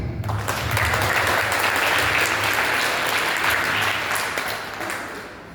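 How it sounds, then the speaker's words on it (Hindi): Loud, sustained applause from a seminar audience rises quickly and holds steady as a dense wash of clapping, tapering slightly toward the end, with no speech over it. "इसे सबसे पहले खुद के लिए जोरदार ताली मारिए"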